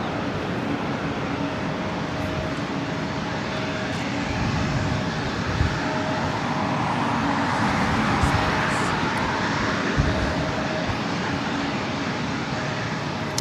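An Asiana Airbus A380 bound for Seoul sits lining up on runway 25 left at LAX, its jet engines giving a steady, distant rumble and hum under outdoor airport ambience, with no voices.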